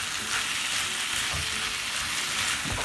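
Chopped tomatoes hit hot oil in a pan of spring onion and potato sabji, raising a loud, steady hissing sizzle with a couple of soft stirring knocks and no voices.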